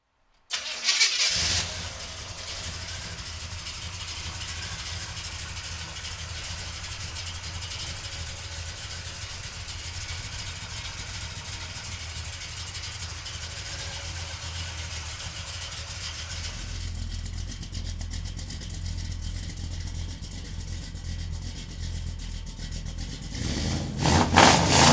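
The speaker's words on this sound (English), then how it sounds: "come on up and we'll fire this 454 up for you right now" A 1971 Chevrolet pickup with a 454 engine is cranked and fires, settling into a steady, loud rumbling idle that carries on without pause, with a brief shift in tone partway through.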